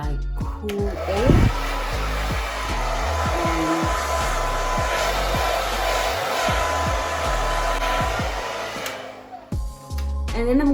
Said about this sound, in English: I'm just gonna go in with the blow dryer in a like cool air.